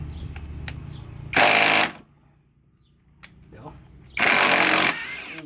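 An impact wrench takes the wheel nut off while a shock absorber seal is being replaced, giving two loud, close bursts of rapid rattling about a second long each, with talk in the quiet stretches.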